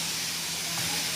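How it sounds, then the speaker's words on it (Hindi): A kitchen pressure cooker whistle releases steam in a loud, continuous hiss that fills the whole moment, close and steady without a break. "उधर कुकर की सीटी लग रही है"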